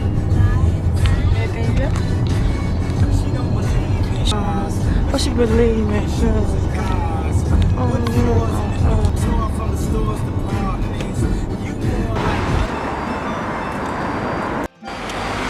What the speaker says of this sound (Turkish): Hala trafikteyiz.